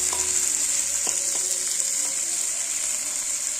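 Onion, dried and green chilies and nigella seeds fry for a lentil tempering, giving a steady bright sizzle throughout with a few soft stirring knocks near the start and no voices.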